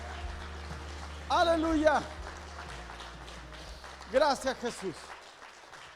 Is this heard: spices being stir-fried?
no